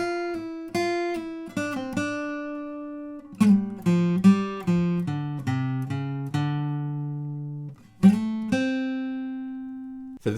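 An acoustic guitar plays the second tab line of a blues song, with plucked single notes and short runs ringing out clearly and alone.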